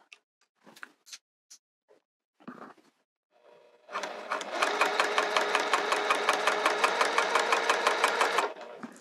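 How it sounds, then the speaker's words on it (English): A sewing machine runs steadily for several seconds, stitching down the open edge of a cork wrist pouch after a few faint clicks and handling sounds at the start. "So now what I'm going to do is sew down the open edge and then sew down this edge so it has an even, balanced look"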